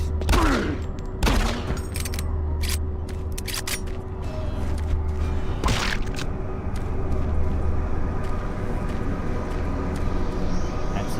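Gunfire in Doom 3, a steady run of sharp shots repeating over a constant low drone for several seconds, fairly loud and close, with no voices over it.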